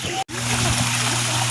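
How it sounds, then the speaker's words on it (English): Water splashes steadily at a zoo fountain, a continuous near wash with a brief dropout near the start and faint voices in the background. "Her water fountain."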